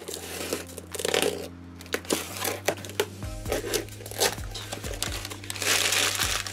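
Pokémon accessory parcel being unpacked, with plastic and paper packaging crinkling and rustling in near, continuous bursts, plus occasional tearing and handling knocks; no speech.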